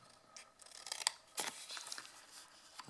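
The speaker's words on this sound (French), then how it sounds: "De la même façon, je coupe ici." Scissors snipping through paper while cutting out a sliding box with an insert, a few crisp cuts with short pauses between them, close and fairly quiet, no talking.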